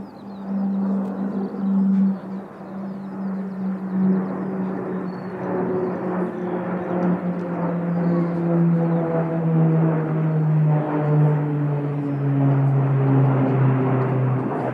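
A T-6 Texan propeller aircraft passes at an airport, its droning engine tone steady and loud, slowly falling in pitch as it goes by over roughly fifteen seconds of continuous roar.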